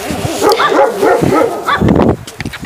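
Pet dog barking and whimpering close by in a rabbit-keeping setting, a run of short muffled woofs and whines over about two seconds, then quieter.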